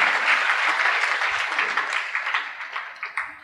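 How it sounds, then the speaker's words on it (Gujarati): Audience at a Swaminarayan katha religious discourse clapping together, a dense, loud wave of applause that thins and fades toward the end. "ફરીથી એક વખત આપણે તાળી પાડી દઈએ"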